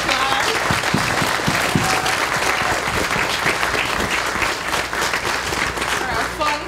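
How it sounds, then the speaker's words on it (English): A large audience gives a loud, sustained round of applause after a stage performance, thick continuous clapping with a low crowd murmur underneath. "Let's give these guys another round of applause."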